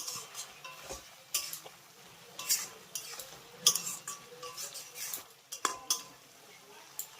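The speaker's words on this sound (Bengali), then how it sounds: "চিনিটাকেও ভালো করে মিশিয়ে দেব" A spoon scrapes and taps against a pan while sugar is stirred into a cauliflower stem curry, giving irregular clinks and scrapes over a quiet low sizzle.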